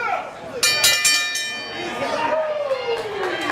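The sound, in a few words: bell starting a pro wrestling match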